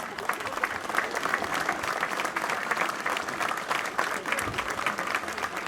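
A crowd in a town square applauds at an outdoor event, with sustained, dense clapping that holds steady throughout and a faint murmur of voices underneath.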